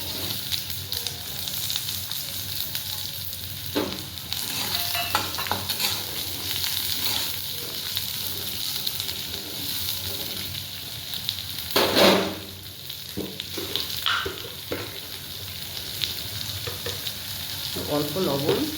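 Onions frying in mustard oil in a pan, a steady close sizzle with occasional stirring scrapes and a brief louder clatter of the utensil midway.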